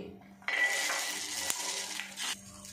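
Green peas tipped into a pan of fried garlic: a sudden burst of sizzling and clattering that holds steady for about two seconds, with a bright metallic clink partway through, then eases off.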